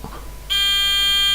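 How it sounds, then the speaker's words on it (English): A fischertechnik driving robot's buzzer sounds a single sustained, piercing electronic tone that starts abruptly and holds steady, loud and close, after a brief quiet moment. "proves that the buzzer is correct."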